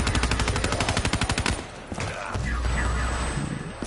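Video game machine gun firing a rapid burst of evenly spaced loud shots for about a second and a half, then cutting off into rattles and mechanical clatter.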